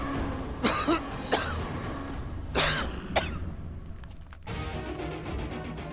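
Several sharp, dry coughs burst out one after another in uneven rhythm, close and fairly loud, with brief pauses and a throat-clearing hack between them.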